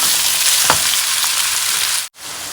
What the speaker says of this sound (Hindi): फिर बस अच्छे से करेंगे फ्राई